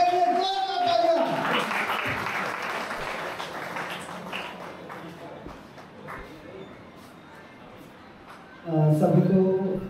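Audience applause for Dr. Saurabh Nagar at a Guhraj Nishad Jayanti celebration in Ulhasnagar, a loud crowd clapping that fills the hall under announcer talk and fades over several seconds before a voice returns.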